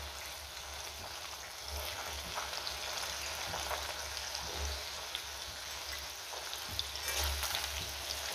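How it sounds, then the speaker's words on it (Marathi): Okra frying in hot oil over a medium flame, a continuous crackling sizzle like light rain, with low rumbling thumps underneath and no voices. "तेल गरम झालंय, आता मी ह्यातली अर्धी भेंडी आधी फ्राय करून घेते।"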